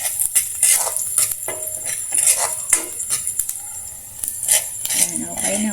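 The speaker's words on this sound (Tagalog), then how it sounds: "igisa lang natin ito hanggang sa mag-brown" Garlic sautéing until brown in a home kitchen pan, with a bright sizzle under repeated scraping and clinking of a spatula or spoon against the metal, close and fairly loud, while someone talks over it.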